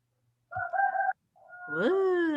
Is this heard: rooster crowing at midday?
yes